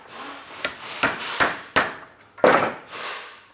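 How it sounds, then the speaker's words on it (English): A hammer gives about six sharp, separate taps at an uneven pace while flaring out a steel brake line on an E30 M3 rear brake upgrade. The strikes are close and fairly loud, with short ringing tails and no talking. "Another couple of taps."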